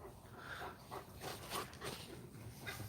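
Dog whimpering with a few short barks and yips, fairly faint and steady throughout, with no talk over it.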